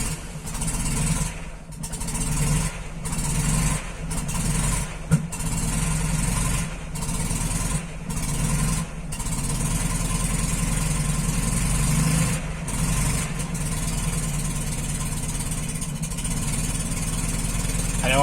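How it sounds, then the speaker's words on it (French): Air-cooled Fiat 500 engine warming up at idle after an oil change, a steady close mechanical putter running continuously with a few brief dips in level. "Là, on va faire chauffer légèrement le moteur."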